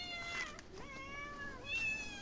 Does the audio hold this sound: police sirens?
no